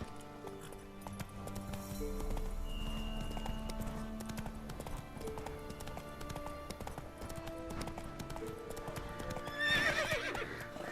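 Roach, the horse in The Witcher 3 video game, galloping with a steady rhythmic clip-clop of hooves under game music, followed near the end by a whinny.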